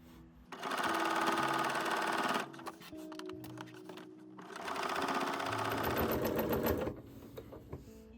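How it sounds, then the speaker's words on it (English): A sewing machine runs in two long steady bursts, back stitching the seam of a quilted bowl cover made from jelly roll scraps, with short pauses and light handling noises between the runs. "So make sure you back stitch a few stitches."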